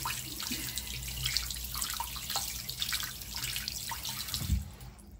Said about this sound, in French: Je vais me rincer les doigts pour pouvoir vous swatcher.